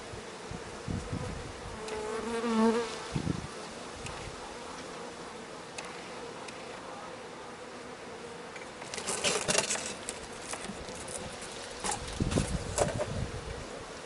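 Honeybees buzz continuously around the microphone at a hive during queen introduction, swelling louder as some fly close, with a few soft knocks and rustles.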